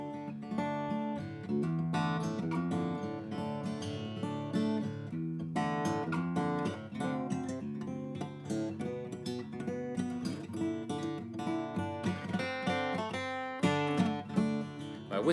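Guitar in drop D tuning playing a riff, a busy, driving pattern of chugging low notes and chords with sharp attacks, steady and fairly quiet throughout.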